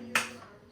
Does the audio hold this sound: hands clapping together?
yes